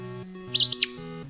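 A short chirping bird song from a bird identification app plays over a tonal music bed, two quick bursts of high tweets standing out near the middle.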